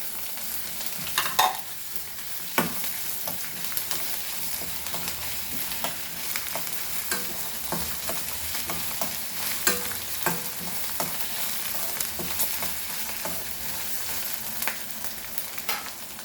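Chili, garlic and ginger-garlic paste fry in a pan with a steady, continuous sizzle, broken by frequent sharp spatula scrapes and stirring clicks throughout, with no talking.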